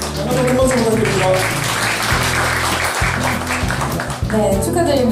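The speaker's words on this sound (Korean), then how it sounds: "여러분 큰 박수 부탁드립니다." Applause from an audience at a high school design and art competition award ceremony, steady clapping running throughout beneath music and a voice speaking over it.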